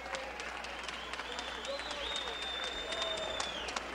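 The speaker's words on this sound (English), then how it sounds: "a round of applause for the fighters" An arena crowd applauds the boxers after a twelve-round fight, a distant, fairly quiet wash of clapping and cheering under a ring announcer's amplified voice.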